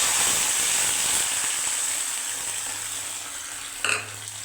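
Panch phoron spices crackle in hot oil in a pan for a sour bhola fish curry with tamarind, a steady broadband sizzle with a brief clatter near the end, no talking.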